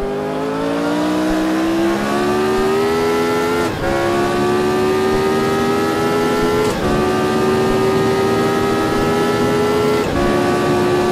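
A race car engine at high revs holds a steady loud tone, rising slightly between three sharp throttle blips of heel-and-toe downshifts roughly every three seconds. The car is driven near 300 km/h, with no voices present.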